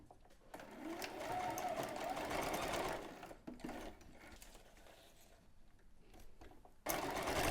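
A sewing machine tacks down bralette cups in long mechanical whirring bursts, close and fairly loud, pausing and restarting with small clicks between runs.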